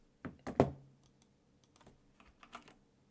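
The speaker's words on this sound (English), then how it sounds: "Am I typing this correctly?" Keys click on a computer keyboard in a few quick bursts, a cluster of sharp taps at first followed by sparser, fainter keystrokes, close and otherwise quiet.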